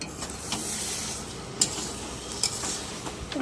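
Mixed vegetable curry stirred and fried in a little oil, a steady soft sizzle under repeated scraping stirs, with a few sharper clinks from the utensil against the pan.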